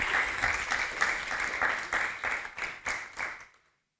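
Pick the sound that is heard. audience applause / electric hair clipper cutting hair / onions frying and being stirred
audience applause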